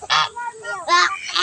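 Turkey gobbling at a family park in Valenzuela City: two loud, rattling bursts of calls with quieter warbling in between, close by.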